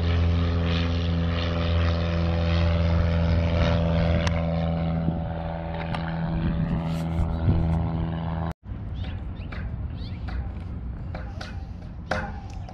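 Small propeller planes at an airport give off a loud, steady engine drone with a pulsing, chopping propeller beat that stays close for most of the stretch. After a brief cut the sound turns to quieter, more scattered ambient noise.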